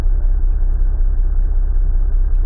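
A car drives off-road in a horror video game, a steady low engine rumble running loud and continuous throughout with no other sounds.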